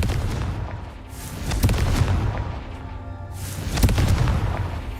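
Confringo spell blasts in the video game Hogwarts Legacy, a few heavy booming explosions with rumbling tails, spaced a couple of seconds apart.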